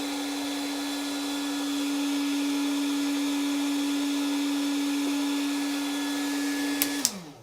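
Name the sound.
Makita 40V heat gun running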